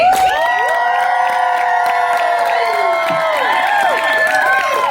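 A crowd cheering for a contestant at the Pennsylvania Renaissance Faire's Halloween-weekend improv show, loud sustained shouts and whoops with many overlapping high voices and scattered claps, fading toward the end.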